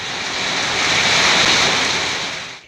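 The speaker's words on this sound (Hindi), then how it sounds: "फिर उन बादलों को भगाने के लिए जोरों की आंधी आती है।" Strong storm wind ahead of rain, a broad rushing roar that swells and then fades over a few seconds, loud and close with no voices.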